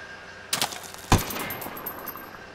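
Gunfire in Ghost Recon Wildlands during a Caimanes city mission: a burst of shots around the half-second mark, then one sharper, louder crack, followed by a lingering noisy tail and scattered faint shots.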